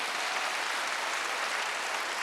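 A church congregation claps together during a Wednesday worship service, a dense, steady wash of many hands beating at once, sustained evenly and loudly without pause.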